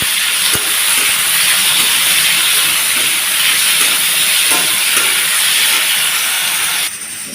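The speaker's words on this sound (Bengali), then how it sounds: "এখন ভালোভাবে নাড়াচাড়া করে এটাকে আগে ভেজে নেবে" Vegetables with capsicum for chowmein fry in a pan, producing a loud, continuous hissing sizzle close up, with occasional faint clatters of stirring underneath.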